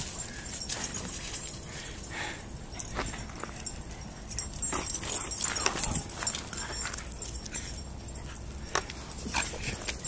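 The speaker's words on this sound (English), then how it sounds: "fast moving dogs." Two dogs racing around in a fast game of chase near a pond, with quick scuffling steps, jingling tags and brief whimpers at a steady moderate level, no talking.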